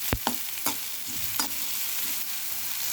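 Oats cutlets shallow fry in a pan with a steady close sizzle, punctuated by several sharp clinks and scrapes of a utensil turning them.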